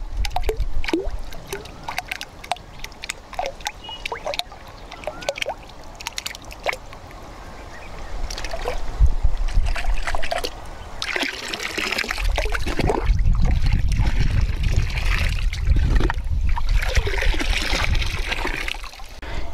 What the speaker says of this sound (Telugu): ఈ విధంగా ద్రావణాన్ని నీటిలో వేసి కలుపుకోవాలి